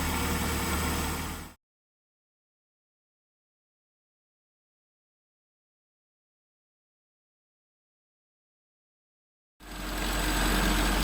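A car engine fed by twin SU carburettors runs loud and steady, drops into complete silence for about eight seconds, then resumes at the same level.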